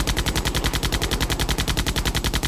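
Loud, close automatic gunfire in a comic dub, a rapid and even rhythm of sharp shots repeating about ten times a second through the whole stretch, heard alone with no talking.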